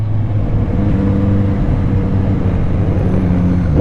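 A Kawasaki Z900RS motorcycle engine revs with a loud, close droning note and sustained harmonics that shift slightly in pitch, running throughout with no talking.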